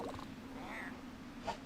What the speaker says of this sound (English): We got another kitty cat to help us out.